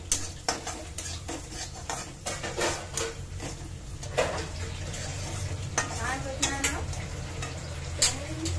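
Sooji ka halwa, semolina halva, cooks in a pan over a low gas flame while a spoon stirs and scrapes. The metal scraping comes in repeated rhythmic strokes over a soft sizzle, with faint voices in the background.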